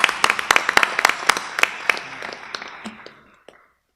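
A town meeting crowd in Wilmington applauds the Finance Committee: dense, lively clapping from many hands that thins out and fades to silence within a few seconds.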